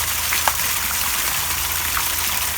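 Water flows and gushes from basalt column fountains in a garden pond water feature, a steady close splashing rush with small droplet spatters, no talking.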